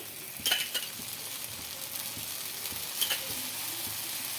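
Oil sizzling under a dosa on a hot pan, a steady close frying hiss with a couple of louder spatula scrapes or pops near the start and again later, no talking.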